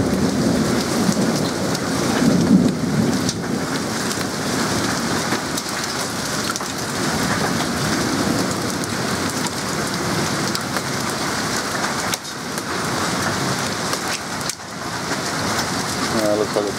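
Steady heavy rain and hail pound down during a thunderstorm in Bundamba, with gusting wind and low rumbles of thunder, a dense continuous roar that stays loud for the whole stretch.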